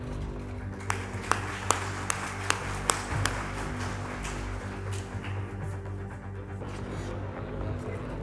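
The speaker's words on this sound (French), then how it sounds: "On les applaudit bien fort." Sparse hand claps from an audience greeting panel speakers at a gaming conference session, a handful of sharp separate claps in the first few seconds over a steady room hum, then fading out.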